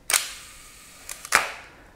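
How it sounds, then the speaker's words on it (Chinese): A Topcon Auto 100 film camera shutter fires with a sharp close snap, then a second shorter press produces a small double click followed by a louder mechanical clack, each ringing briefly in a quiet room. "然后你就发现它是这样按快门的。"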